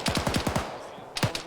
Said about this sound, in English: That sounds like PK fire from right to our east.